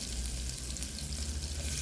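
Chopped onions go into the tempering oil for basmati khichdi and sizzle steadily and fairly loud, with light stirring.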